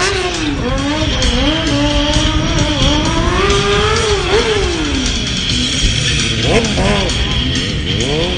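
A stunt motorcycle fitted with strong frame protectors revs loudly at Bahrain International Circuit, its engine pitch sweeping up and down repeatedly. A commentator talks over the engine throughout.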